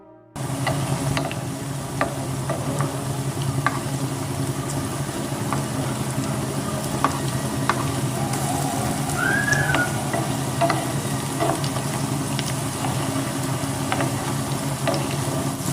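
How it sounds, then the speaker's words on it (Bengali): Small besan pakoras deep frying in hot oil for a Punjabi kadhi pakora, a steady low sizzling bubble running throughout with faint occasional ticks and clinks, no talking. "পকোড়াগুলো আমার খুব সুন্দর করে ভেজে নেওয়া হয়ে গেছে।"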